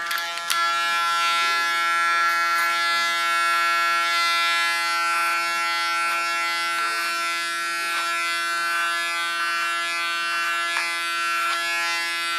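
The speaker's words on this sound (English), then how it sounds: "Working clipper over comb." An electric hair clipper cutting hair over a comb during a short haircut gives a steady, close, bright buzzing hum that runs throughout, with small ticks and clicks as the blades pass through the hair.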